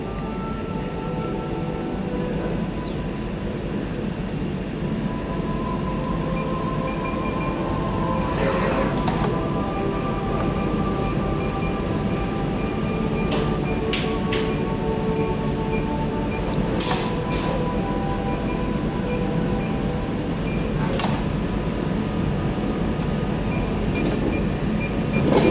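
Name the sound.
dispensing machine running with traditional metal needle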